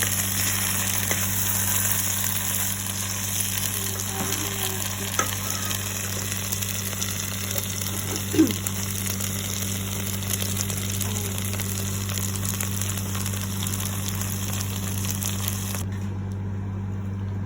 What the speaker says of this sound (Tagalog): kumukulo na itong munggo natin